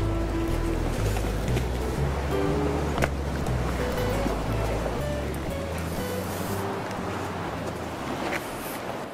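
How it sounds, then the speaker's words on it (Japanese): Rough sea waves break on a shallow coral reef shore, a continuous roaring surf heard from nearby with a low engine-like hum underneath and no talk. "今日も絶望的に海が荒れてるな"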